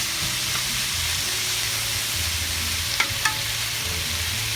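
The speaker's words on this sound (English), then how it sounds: "now, my meat's cooking" Steak meat for Philly cheesesteak sizzles in a hot pan with a constant, close frying hiss and a couple of faint clicks near the end, with a low hum underneath and no talking.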